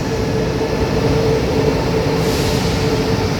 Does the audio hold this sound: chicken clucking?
no